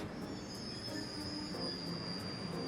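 A train in the video game The Legend of Heroes: Trails of Cold Steel rolls into a station with a high, steady wheel squeal over a low rumble, fairly quiet and continuous.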